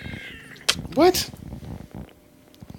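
A kitten meows loudly and close up in a couple of sharp, rising cries, with a person's voice talking around them.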